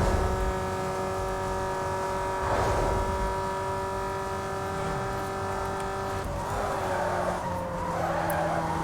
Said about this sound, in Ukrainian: Двигун гуде.